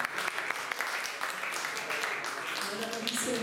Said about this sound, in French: Vraiment, ils méritent nos applaudissements.